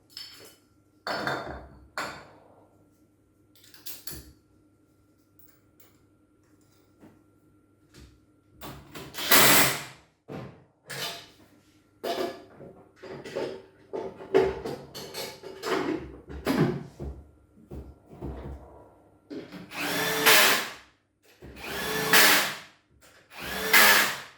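Close, loud mechanical whirring from a Piaggio 125/150 scooter transmission fitted with a 76-tooth fixed half-pulley, spinning up in repeated bursts, separated by brief lulls, with no one speaking.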